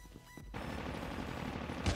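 A Type 25 rifle fires a burst in the Call of Duty Mobile video game. A rapid stream of shots runs close and loud for about a second and a half after a brief quieter lead-in.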